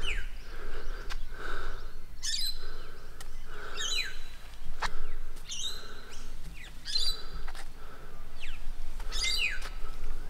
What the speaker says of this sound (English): No shortage of birds here greeting the morning with their songs.